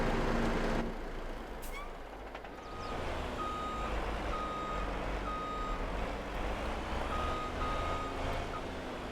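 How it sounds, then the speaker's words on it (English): A truck in Farming Simulator 22 sounds evenly spaced reversing beeps, about six clear pulses, over a low engine rumble with a brief air-brake hiss near the start. "I'm going to have to do some skillful reversing of my truck to get in here."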